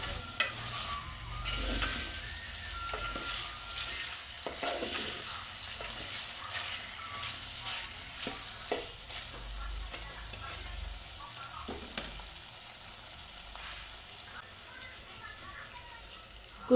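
Chicken sukka masala frying in a pan, a low steady sizzle with frequent scrapes and clicks of a spoon stirring, continuing throughout at moderate volume.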